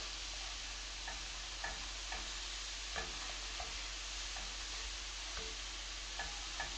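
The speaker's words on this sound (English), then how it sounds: "You guys can hear that sizzle." 85-15 ground beef fries in a pan with a steady, quiet sizzle, and a spoon stirring it adds soft scraping ticks at irregular intervals.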